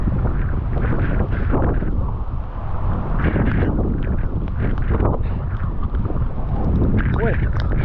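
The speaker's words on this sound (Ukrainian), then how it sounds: "У нас зараз вітер навіть, мабуть, ще не штурмовий." Strong wind from Hurricane Milton in Florida roars and buffets the microphone continuously, a loud, rough rushing with no break.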